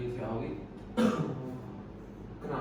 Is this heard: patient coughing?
yes